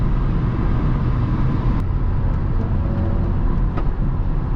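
A Volvo S60 R car driving, its engine and road noise holding a steady, loud, broad rumble throughout with no talk.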